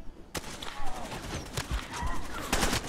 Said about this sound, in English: Oh, he can shoot me through the fence.